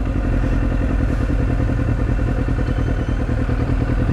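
Motorcycles rumble steadily at close range, a loud, continuous low engine drone with faint clattering running through it and no pauses.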